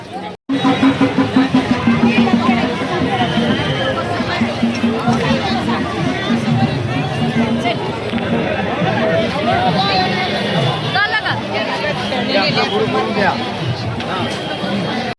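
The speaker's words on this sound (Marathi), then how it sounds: "चंद्रभागा नदीमध्ये सगळ्या वारकऱ्यांची अलोट गर्दी आहे प्रदक्षिणा करण्यासाठी, त्याच्यानंतर स्नान करण्यासाठी." A dense crowd of pilgrims gathers at the Chandrabhaga river in Pandharpur, giving a steady, loud hubbub of overlapping voices and chatter that continues throughout.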